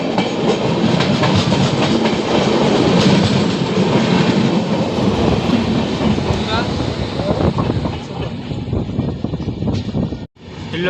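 Train No. 11311, the Solapur–Hassan Express, rolls along with a loud, continuous rumble and rhythmic clickety-clack of its wheels on the rails, briefly dropping out just before the end.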